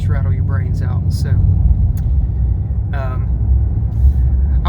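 A 2013 Chevrolet Camaro SS convertible fitted with a new exhaust idles with a deep, steady, close exhaust rumble that fills the whole stretch, with brief faint voices over it.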